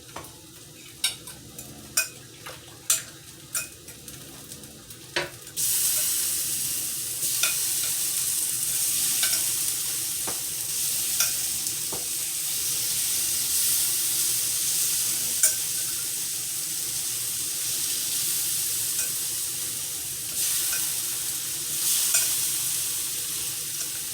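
Shrimp sizzle on a Deluxe Electric Grill & Griddle for fajitas: a loud, steady frying hiss that starts abruptly after a few sharp clanks of utensils and continues with occasional stirring scrapes, with no talking.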